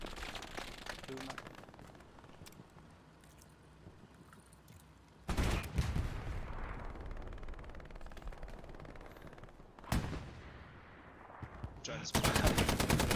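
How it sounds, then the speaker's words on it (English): Gunfire in the competitive Hell Let Loose match on a night map: steady machine-gun and rifle shots rattle throughout, with loud close bursts near the middle and end, while players talk over the shooting. "I'm trying to shoot him through a hole."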